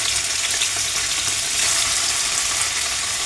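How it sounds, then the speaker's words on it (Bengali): Paneer cubes fry lightly in oil with a loud, dense, continuous crackling sizzle. The sound stays even throughout, close and alone. "পনিরটাকে একটু হালকা করে ভেজে নেব।"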